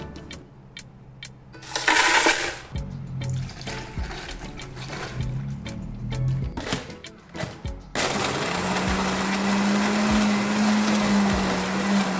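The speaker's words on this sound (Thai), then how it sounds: "จากนั้นก็นำไปปั่นกันค่ะ" Clinks, pouring and handling noises precede a blender that kicks in and runs steadily, whirring a Thai green tea drink mixed with sugar, sweetened condensed milk and evaporated milk.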